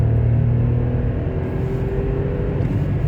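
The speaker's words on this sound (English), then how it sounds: "now suppose you're entering the highway and you're just gonna accelerate all speed up" VW Up accelerating hard in second gear with the throttle floored on a highway on-ramp, a loud, steady engine drone with rising harmonic whine heard from inside the car, continuous and without talk.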